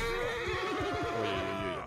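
A horse in the video game Mount and Blade 2 Bannerlord gives a single loud, wavering neigh lasting almost two seconds, close and clear with no talk.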